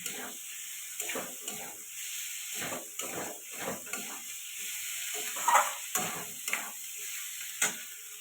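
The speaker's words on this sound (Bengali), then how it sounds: "এবার আলু দিয়ে দেবো ভেজে রেখেছিলাম আলুটা দিয়ে দেবো এটা ভালো করে মশলার সাথে কষিয়ে নেব" Pre-fried potatoes sautéed with spices in a pan for a fish, potato and brinjal curry, giving a low steady hiss with repeated soft scraping strokes of a spoon, close by, quiet, without speech.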